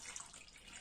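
Cold tap water runs into a bowl of soya chunks, a short, soft, steady splashing hiss heard close up and quiet.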